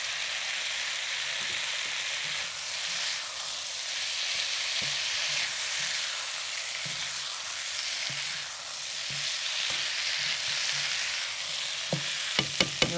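Shrimp, pea pods and pepper stir-fry in a hot pan with a continuous bright hiss and sizzle, moderately loud and close, with soft irregular taps of stirring and a few sharp clicks near the end.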